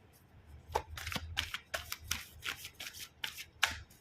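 Tarot cards being shuffled by hand, a quick series of crisp riffling and flicking bursts, close and fairly quiet with no talk.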